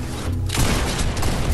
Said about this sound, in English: Just sniped one right over there